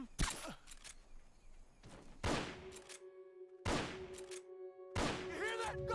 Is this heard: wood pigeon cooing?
no